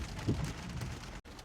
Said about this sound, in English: So the rain's coming down quite heavily